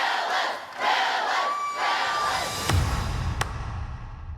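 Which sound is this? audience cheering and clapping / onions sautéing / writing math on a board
audience cheering and clapping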